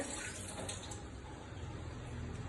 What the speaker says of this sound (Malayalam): മഞ്ഞൾ വെള്ളം നല്ല പോലെ ഊറ്റി